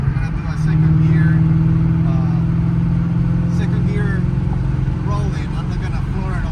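Shelby GT350 fitted with a PMAS intake pulling hard in second gear, a loud throaty engine roar rising and holding for several seconds, close by, with someone speaking briefly over it.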